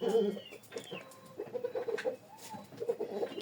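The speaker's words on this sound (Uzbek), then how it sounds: "Koreya xo'rozimiz." A Korean rooster, legs tied, gives a run of close clucks and short calls in uneven bursts, with other fowl faintly around it and no talking.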